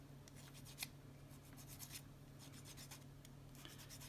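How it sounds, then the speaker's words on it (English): Sandpaper rubbed over a glued seam on a plastic Warhammer Ork Deffkopta model part, with faint, quiet scratchy strokes in an irregular rhythm over a low steady hum. "do some sanding"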